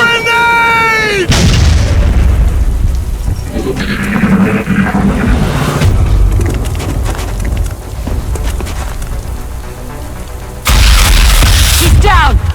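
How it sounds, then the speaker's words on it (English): A grenade blast in XCOM: Enemy Within, a deep, loud booming burst that lands amid heavy battle noise and gunfire, with soldiers shouting over the chaos. "Grenade!"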